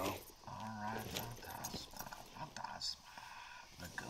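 Hooves clip-clop and a horse snorts in the Red Dead Redemption 2 video game, with a dog barking nearby and a person talking over the game sounds.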